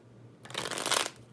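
A deck of tarot-style oracle cards being shuffled in one quick burst of dense riffling flutter, close and fairly loud, with no voices.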